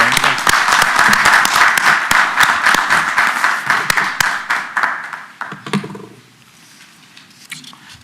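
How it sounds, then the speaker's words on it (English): A room of people at a city council meeting applauds the city staff, a dense burst of clapping that holds steady for about five seconds, then thins to scattered claps and fades into quiet, with a brief voice near the end. "So applaud the staff for all that effort."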